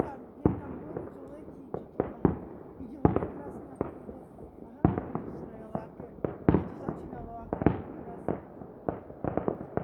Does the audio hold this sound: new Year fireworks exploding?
yes